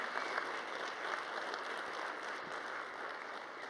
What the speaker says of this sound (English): Can you give all these folks a round of applause?